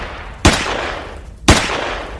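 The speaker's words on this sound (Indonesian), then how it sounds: "Sersan Sony memuntahkan peluru senapannya ke arah musuh yang kebetulan ada dalam jangkauan tembaknya." Two sharp rifle shots about a second apart, loud and close, each with a short decaying tail over low background noise, set in a dramatized story of an armed attack on villagers in Cibugel, Sumedang.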